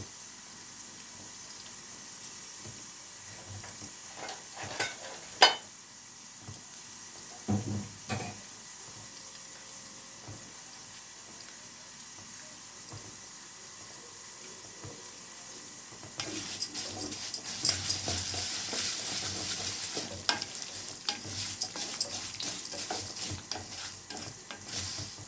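Rice vermicelli fries in a home kitchen pan with occasional scraping stirs, quiet at first, then a louder, denser sizzle takes over through the second half.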